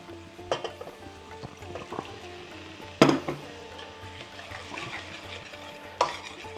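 Tandoori masala sauce being stirred in a pan after a splash of water, with soft scraping and gentle sizzling throughout and sharper utensil knocks against the pan at intervals, fairly quiet and close.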